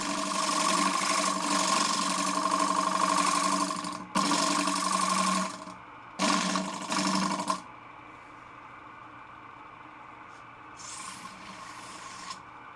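A lathe tool shear-scrapes a wooden chip and dip server, making harsh, loud rasping bursts of several seconds each with short gaps, then the noise drops to a quiet motor hum with a fainter scrape near the end.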